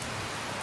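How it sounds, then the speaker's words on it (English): Heavy rain pours down steadily in a dense, loud, continuous hiss, drumming hard onto a surface, with no voices heard. "The rain is making so much noise"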